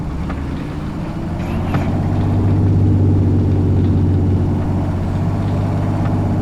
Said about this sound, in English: We're gonna enjoy some engine noises.